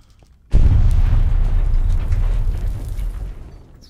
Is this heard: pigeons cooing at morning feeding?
no